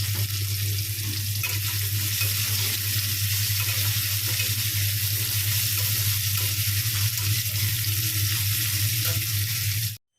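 Pumpkin and potato curry frying in a pan, a loud, steady sizzle with a low hum underneath, continuous and close until it stops abruptly.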